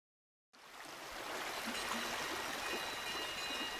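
Radio-drama effect of a river stream flowing, fading in after half a second of silence and then rushing and trickling steadily at an even level with no voices.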